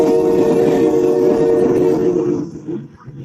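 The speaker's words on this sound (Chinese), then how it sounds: "铁牛车拉着刺耳的汽笛，再也没有歇过。" An early steam locomotive hauls coal wagons along rails in an animated drama. A loud, sustained shrill whistle blends with heavy rumbling for a few seconds before dropping away quickly.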